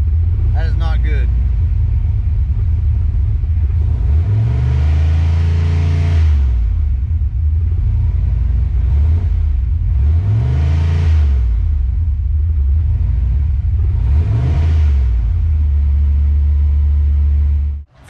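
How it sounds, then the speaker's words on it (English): A Foxbody Mustang engine idles with a deep, loud rumble up close and rises three times under throttle input, each rev swelling and falling back before the engine cuts off at the end. "I was giving the car throttle, and sometimes it would read, and then sometimes it wouldn't."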